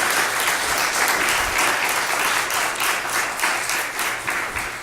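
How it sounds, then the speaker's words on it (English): Applause from the audience at a school district governing board meeting honoring retirees, a full, sustained burst of many hands clapping, bright and steady throughout. "let's go ahead and give them a round of applause"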